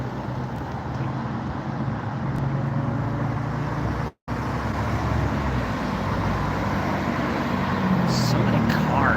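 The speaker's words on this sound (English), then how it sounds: "So many cars." Cars pass steadily on a road outdoors during a walk, a broad continuous roadway rumble with a brief dropout midway and a person talking over it.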